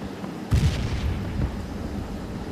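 Bomb explosion in the Rush mobile game, a single muffled boom with a short rumbling tail at moderate loudness, followed by low background game noise.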